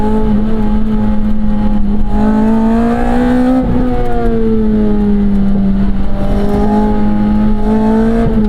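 A Lotus Elise four-cylinder engine revs steadily while driving, its loud, continuous tone rising and falling in pitch as the car accelerates through the gears, heard close up with no talk.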